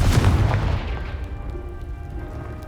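A Confringo fire spell blasts a pile of rubble in the video game Hogwarts Legacy, a loud low boom at the start that rumbles and fades into a quiet lingering tail.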